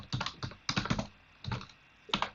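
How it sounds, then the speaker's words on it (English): Close typing on a computer keyboard while writing Python code, three quick bursts of rapid key clicks separated by short pauses. "I'm typing default dictionary usage in Google Bard on the side."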